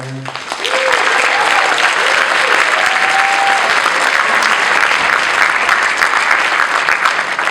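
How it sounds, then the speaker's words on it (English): A large audience at a high school winter concert bursts into loud, sustained applause for a choir after a brief moment of speech, the clapping dense and continuous to the end. "can we give another round of applause for this awesome choir?"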